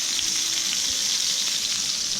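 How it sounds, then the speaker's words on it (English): Duck breast frying in a pan, a steady, close, continuous sizzle of hot fat crackling without pause and with no talk over it. "Oh yeah, it's frying it nice."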